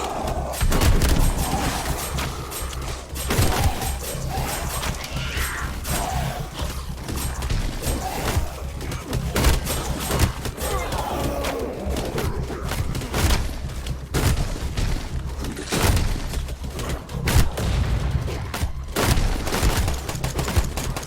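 Rapid gunfire in the survival game Night of the Dead on hardcore mode during a zombie wave, sustained bursts of shots and booms, loud and continuous throughout.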